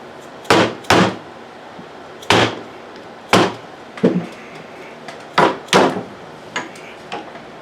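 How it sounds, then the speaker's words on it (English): An old main seal is hammered out of a 1999 Grand Am GM LD9 2.4 Quad 4 engine during a rebuild. Loud, sharp metallic-wooden strikes come in irregular pairs and singles, close up. "hammer this guy out of here."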